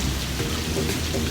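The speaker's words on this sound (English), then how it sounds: "We're taking our shower in the rain." Heavy rain pours in a steady, dense wash during a thunderstorm, close and continuous with low rumbling underneath that may be thunder, and no talking.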